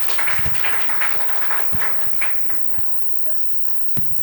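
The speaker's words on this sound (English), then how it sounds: "Another round of applause to all the speakers," A seminar audience applauds the speakers, scattered hand clapping that fades over a few seconds into a sparse room with a voice and a single sharp knock near the end.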